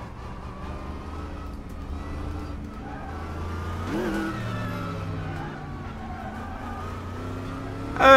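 DTM race car in RaceRoom on the Sepang circuit, its engine droning steadily with rising and falling revs, a sharper surge of acceleration near the middle, loud and continuous throughout.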